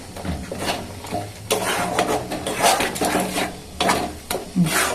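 Spices and garlic paste sizzle in a pan while a utensil scrapes and stirs, with repeated clinks and scraping strokes over a steady fry.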